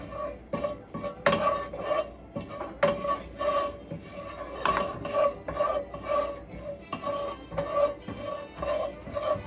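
Whole cumin seeds toasting in a pan while being stirred, making continuous close rasping scrapes with a loose rhythmic pattern and occasional sharper metallic knocks, with no voices.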